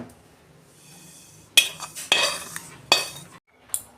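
Fried semolina is scraped and poured out of a metal pan, making several sharp clinks and scrapes of a spoon against the pan amid soft rustling.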